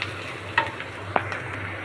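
Onions frying in oil for an eggplant curry, with a soft steady sizzle and two brief sharp stirring clicks from the pan.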